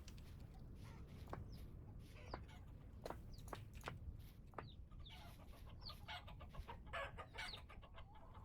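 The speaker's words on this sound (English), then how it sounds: "Oh, look at that! We have little chickens." Chickens and chicks in the survival game Vintage Story cluck and peep in scattered short calls over a soft, low ambient background.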